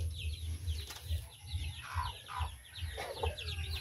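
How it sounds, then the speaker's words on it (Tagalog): A chicken calls in repeated short clucks, with higher chirping notes alongside and a low rhythmic thumping underneath, all fairly faint. "Tawag yan ng manok."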